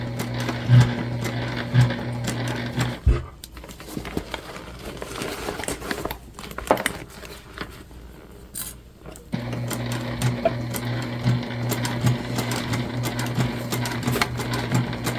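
A sewing machine stitches the side seam of a large bag. Its steady, close, rapid whir runs in two long stretches with a quieter pause between them.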